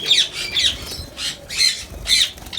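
Gouldian finches in a breeding cage, giving a series of sharp, high, nasal calls in quick bursts, about five close calls in a couple of seconds with no talking.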